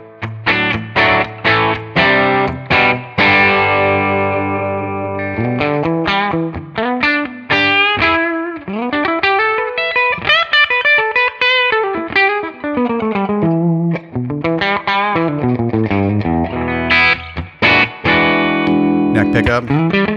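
Electric guitar played through a Tonex amp capture at push gain, crunchy overdriven tone playing a string of chords and melodic runs, sustained and fairly loud, with no talking.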